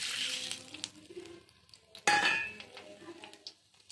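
Seeds crackling and spluttering as they fry in hot oil in a pan for a tempering, with metallic clinks of a spoon against the pan and a louder burst of sizzle partway through.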